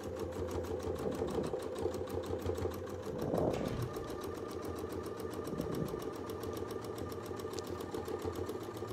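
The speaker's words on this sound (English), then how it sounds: "Okay, let's sew." Domestic sewing machine stitching through a quilt, running steadily with a continuous motor whir and rapid needle rhythm throughout, a brief heavier surge partway through as it works over a bulky seam.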